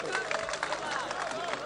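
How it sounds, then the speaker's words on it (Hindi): Audience applause at a mushaira poetry gathering at Fakharpur Bazar, a dense, steady patter of many hands clapping throughout, with a voice faintly mixed in. "तालियां बजाओ, मजा आ जाए।"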